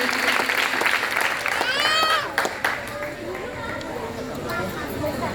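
Congregation in a church claps strongly and steadily while a voice speaks loudly over the applause, which then settles into a lighter, continuing patter.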